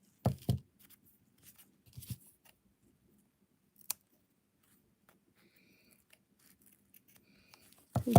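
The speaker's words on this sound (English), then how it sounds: "Now that I've ironed this and dried the fray check glue, I'm going to trim it." Scissors trim ironed doll fabric stiffened with fray-check glue, a few short crisp snips spread across long near-silent gaps, close and clear, with a final louder cluster of cuts.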